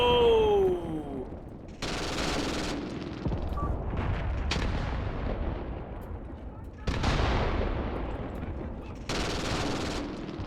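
Grenade blasts and gunfire in the tactical war game Graviteam Tactics, with repeated heavy booms at irregular intervals over a continuous rattle of small-arms fire, loud and dense throughout.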